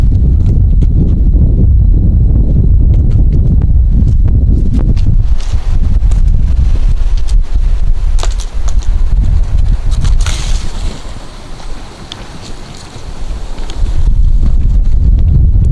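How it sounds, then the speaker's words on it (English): A power wheelchair, the Quantum Edge 3 iLevel, rolls outdoors over fallen acorns, giving loud close crunching and rumbling with wind buffeting the microphone and a brief quieter stretch before the rolling noise returns. "that's what I'm running over a bunch of these little acorns right now"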